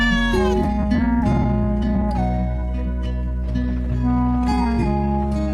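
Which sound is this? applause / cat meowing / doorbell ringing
cat meowing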